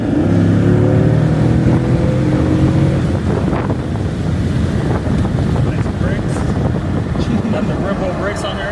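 A Chevy Camaro SS with Brembo brakes heads onto the freeway. A low engine drone opens, then gives way to a steady, loud roar of road and wind noise as it speeds up, with voices in the cabin now and then.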